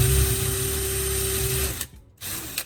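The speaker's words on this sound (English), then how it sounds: "Now take your drill and make two clean holes at the tip of the handle." A power drill bores holes into a wooden handle, a steady whirring motor with a tonal hum that stops briefly, then restarts in a short burst.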